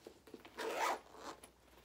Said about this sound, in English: Then it has a pocket here on the front that zips.